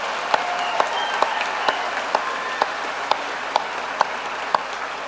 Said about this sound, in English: Please give our cum laude students a loud round of applause